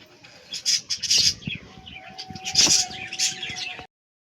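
Several birds calling and chirping close by, with brief flutters and soft bumps, plus a faint steady hum in the background.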